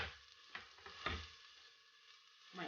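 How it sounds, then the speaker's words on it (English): Lentils stirred in a pot with a spoon, a few soft scraping strokes and a faint sizzle, quiet and close with no talking. "I'm just going to stir it for 1 minute"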